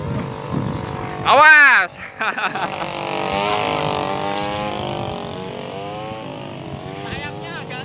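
A model airplane powered by a lawnmower engine drones at full throttle, its buzzing pitch swelling loudly for a moment and then holding a steady whine, while people talk and shout nearby.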